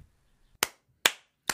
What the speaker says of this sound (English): that's the sound of me clapping for my guest